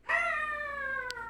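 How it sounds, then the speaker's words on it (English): A dog howls in the background with one sustained, slowly falling, tonal wail lasting over a second, fairly clear and loud, with a brief click near its end. "Sorry for the background doggy noises."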